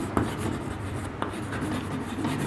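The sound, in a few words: writing on a board during a maths lesson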